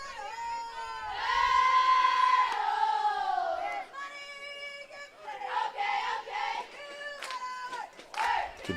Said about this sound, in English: You can probably hear all the cheering and chanting from the Nighthawks dugout